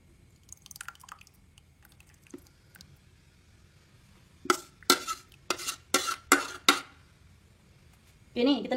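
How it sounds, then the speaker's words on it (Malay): Gravy is poured into a sambal cooking mixture for a fish-and-flour snack: a run of several wet splashing, sloshing bursts, close and fairly loud, with soft clinks and a brief voice before and after. "Okey, ni kita nak tuang kuah dia."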